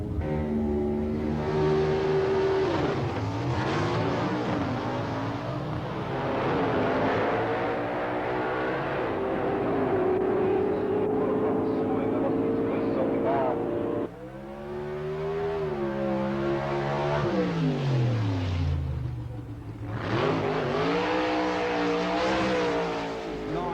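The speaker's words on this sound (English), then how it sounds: "This is a Chevy Chevelle." A Chevy Chevelle drag car accelerates hard down the strip at a 1989 ANDRA drag racing meet, engine roaring loud and continuous with rising revs, a gear change midway, then revving on again.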